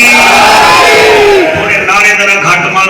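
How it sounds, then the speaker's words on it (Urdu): A large crowd at an Islamic religious gathering shouts a slogan together with raised hands, a loud, close roar of massed voices rising and falling in unison over a few seconds. "ہاتھ بلند کر کے نعرہ"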